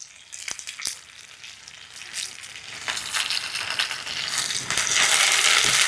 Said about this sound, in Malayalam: വേപ്പിലും കൂടി നമുക്ക് വഴറ്റിയെടുക്കാം